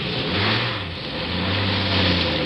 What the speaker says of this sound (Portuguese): Aquele carro saiu de uma transversal correndo muito.